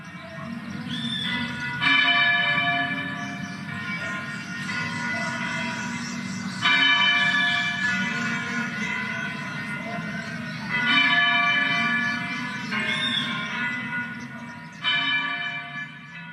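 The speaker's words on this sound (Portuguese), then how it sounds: "Três vezes ao dia, os sinos de São João tocaram esse som" Church bells of São João ring the penance toll, with loud strikes recurring every few seconds over a sustained, reverberant hum of ringing tones, heard from a moderate distance with no talking.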